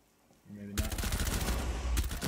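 A loud, close burst of automatic fire in Rainbow Six Siege, beginning abruptly after a quiet lead-in with a brief voice and rattling continuously for over a second.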